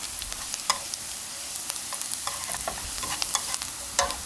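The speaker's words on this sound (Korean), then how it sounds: "살살살살 저으면서 파가 약간 노릇노릇해질 때까지 끓여주는 거예요" Chopped green onions frying in oil while being gently stirred: a steady, bright crackling sizzle with frequent little pops and spatters, close and continuous, with no one talking.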